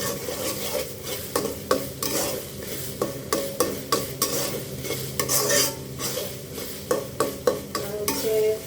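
Spices for tehari fry and sizzle in a pan while a spoon stirs and scrapes them in quick, repeated strokes, close and moderately quiet, with no talking.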